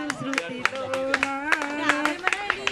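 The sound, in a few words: clapping by audience at teachers' meet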